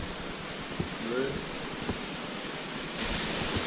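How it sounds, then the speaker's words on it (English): A waterfall deep inside a river cave gives a constant, dense rushing hiss that fills the space and swells slightly near the end, with a few faint knocks and a brief murmur of voices over the flow. "Oh, a waterfall back here or something."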